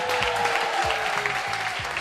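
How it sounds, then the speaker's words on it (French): An audience applauds a minister named Adama Bitogo at a televised music event, a steady, dense burst of clapping that continues throughout at even loudness. "On applaudit pour lui."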